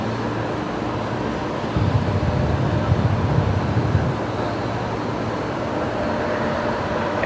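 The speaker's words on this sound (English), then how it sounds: "there we got Singapore on the move. The A350-900 coming out, likely to go 19 right tonight" A Singapore Airlines Airbus A350-900 taxis at Brisbane Airport at night, a steady, distant jet-engine drone that swells slightly for a couple of seconds before settling back to a constant hum.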